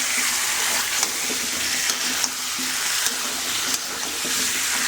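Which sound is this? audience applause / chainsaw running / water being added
water being added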